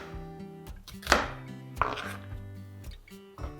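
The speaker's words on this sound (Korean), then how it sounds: "양파는 아까 감자 크기 정도로 썰어 주시면 될 것 같아요." A knife chops onion on a cutting board for a Korean tuna and potato stew, a few sharp knocks in quick succession over soft background music.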